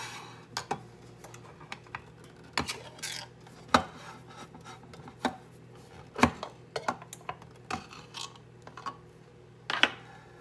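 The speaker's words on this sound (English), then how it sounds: "Now let me get the other can open." A can being opened with a manual opener in a home kitchen, a series of irregular sharp clicks and metallic cranks spaced across several seconds, close and fairly quiet with a low background hum.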